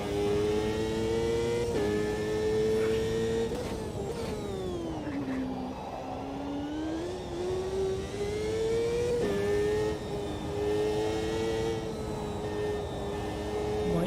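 A GT3 race car engine in a sim racing game drones steadily throughout, its pitch dipping on a downshift and then climbing again under throttle, with tire and ambient game noise beneath and no voices.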